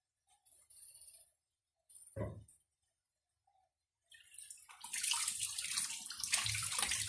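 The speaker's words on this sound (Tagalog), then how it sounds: "Hugas po muna tayo ng kamay dahil medyo magmamantika na po yung ating kamay." Hands being washed under a running kitchen tap between steps of making shanghai lumpia with banana heart; a few soft splashes and a brief bump, then a loud, steady rush of water lasting several seconds.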